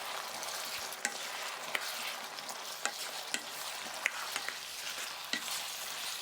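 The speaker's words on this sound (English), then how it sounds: "Then add in the pork and give it a quick stir." Pork being stirred into a pan of sweet and sour sauce with peppers and pineapple, a soft steady sizzle broken by several sharp scraping clicks of a utensil against the pan.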